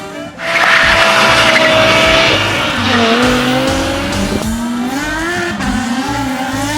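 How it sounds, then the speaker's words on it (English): In an anime mountain-pass race on Mount Akina, a white Mazda FC3S sports car roars past with a loud, sustained engine whine and long squealing tires that shift in pitch through the corners. "I know that car! That white FC3S belongs to Rai Takahashi"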